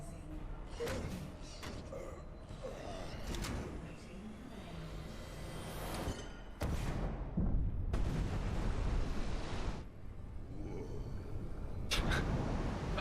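A booming explosion in the video game Enslaved: Odyssey to the West rumbles loud and broad, with sharp bursts and heavy noise swelling through the middle of the clip.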